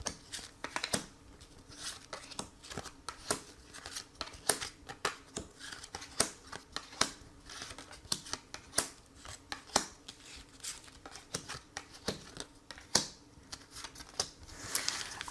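Tarot cards are shuffled for a reading, giving a quiet, uneven series of crisp paper clicks and riffles with brief pauses between bursts.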